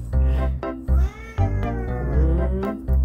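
A cat meows repeatedly at close range, a string of drawn-out, wavering cries with short breaks between them and no talking.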